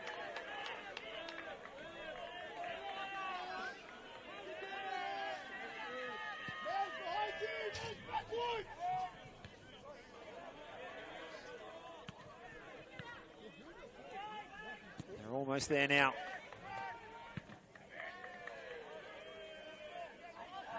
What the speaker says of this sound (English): You can hear the oohs and the ahs, the Bronx cheers going the way of the Oakleigh players.